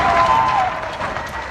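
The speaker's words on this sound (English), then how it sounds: "people step on their balconies and porches to cheer and clap and bang pots and pans" Crowd on Vancouver balconies and porches cheering, clapping and banging pots and pans at 7 p.m. as a salute to healthcare workers, a steady distant wash of applause, shouts and clatter with a whistle-like tone early on.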